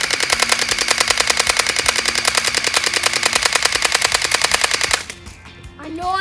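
Uzi airsoft BB gun fired full auto from the hip, a loud rapid unbroken stream of clacking shots for about five seconds, then abruptly stopping as voices begin talking.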